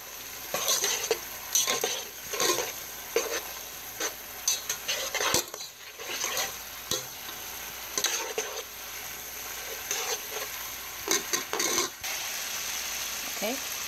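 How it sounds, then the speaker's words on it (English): A utensil scrapes and stirs through bourbon sauce in a hot pan with a fairly even rhythm of knocks and scrapes over a continuous sizzle, which pauses briefly partway through. "I'm going to stir that around."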